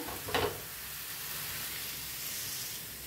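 Maize flatbread (makya dhapata) on a hot griddle over a gas flame gives off a steady, soft sizzle and hiss, with a brief louder crackle near the start, heard alone without any voices.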